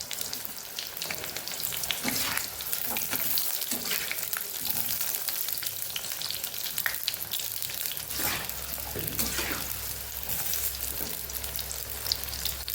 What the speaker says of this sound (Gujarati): તો અહીં આપણું તેલ ગરમ થઈ ગયું છે તો પહેલા આપણે રીંગણાને આમાં તળી લેવાના છે